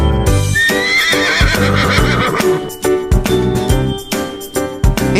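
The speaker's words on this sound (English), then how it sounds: "Hey, it's a horse." A horse gives a loud, close whinny with a shrill, quavering, descending call, followed by snorts and a few clopping hoof sounds.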